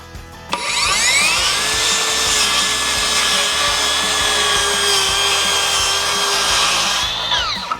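A TOTAL 42V cordless circular saw makes a bevel cut through wood, starting with a sharp spin-up and then a loud, steady whine with a high-pitched blade tone for about seven seconds before it winds down.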